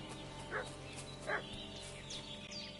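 A dog in a video game gives two short, faint barks about a second apart, distant under a quiet musical background, with no talking.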